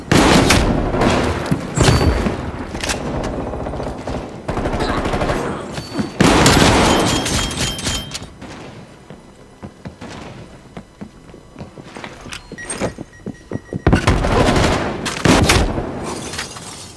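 Shotgun blasts fired in loud bursts, several booming reports close together with gaps and echoing tails, some quieter stretches between volleys.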